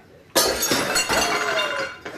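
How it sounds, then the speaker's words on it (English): A glass bowl shatters in a home kitchen with a sudden loud crash at the start, then scattered shards clink and ring for about two seconds, with a smaller clink near the end. "I broke Mom's bowl"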